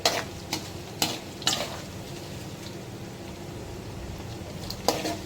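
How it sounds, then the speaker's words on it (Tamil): Ginger frying in a pan with oil, onion and garlic gives a soft steady sizzle broken by several sharp scraping stirs of a spoon, with no talk. "இப்போ வந்து இஞ்சி போட்டு இஞ்சி நல்லா ஃப்ரை ஆகுது"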